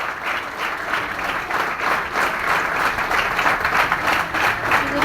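Sustained, even applause from a gathered audience greets Dr. Sachin Patil, a regional team controller, a thick wash of clapping that holds at a steady level for about five seconds, with no clear talk on top.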